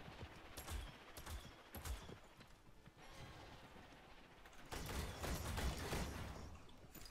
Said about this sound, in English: There's a guy like shooting at me from behind.